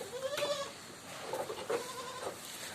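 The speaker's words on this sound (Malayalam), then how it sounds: "ഇത് ക്രോസ് ബ്രീഡ് ആട്, അത്യാവശ്യം കാലകര ഇടന്നിട്ടൊക്കെ ഉള്ള നല്ലൊരു ക്രോസ് ബ്രീഡ് ആട്" A crossbreed goat bleats a few times at moderate distance, short wavering cries separated by brief pauses, with quiet background noise.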